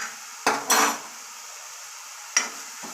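Metal spoon clinking against a cooking pot while adding a spoonful of Everest garam masala for a spicy okra curry: three or four sharp, close scrapes and taps separated by quiet pauses, with a faint sizzle underneath.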